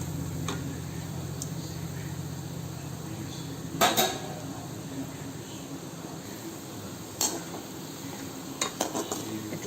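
Stirring in a pan while making gulab jamun, with soft scraping and clinks of a utensil against metal, several sharper taps standing out over a steady low background.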